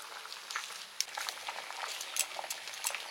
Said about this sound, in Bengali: দিয়ে ঘুগনিটা ফুটছে ভালোই।